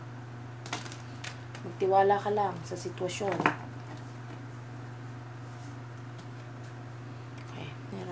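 A brief burst of tarot cards being shuffled, crisp riffling clicks under a person speaking, with a steady hum in the background.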